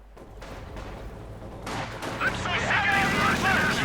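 Gunfire and anti-tank rocket hits pound a Panzer tank during a 1v1 Company of Heroes 2 match, with bursts of shots and booms that grow denser and louder toward the end while a commentator talks over them.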